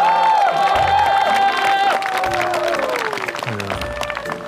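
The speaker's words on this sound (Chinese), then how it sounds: "让我们再热烈的掌声送给这对新人" Wedding guests applaud and cheer the newlyweds, a crowd's clapping blending with a loud, steady wash of music that dominates throughout.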